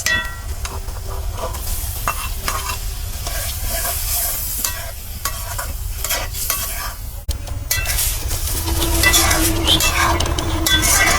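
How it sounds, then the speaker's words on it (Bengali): Prawns stir-fried in a pan with garlic paste: steady loud sizzling with frequent spatula scrapes and clinks of metal on the pan, growing busier toward the end. "এটাকে একটু কষিয়ে চিংড়ি মাছগুলো দিয়ে দিব"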